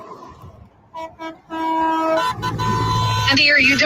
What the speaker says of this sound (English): We got to do some hooting and tooting.